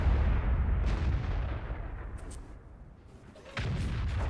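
A tank's main gun fires in World of Tanks with a heavy, booming blast whose low rumble decays over a couple of seconds, then a second loud report cuts in near the end.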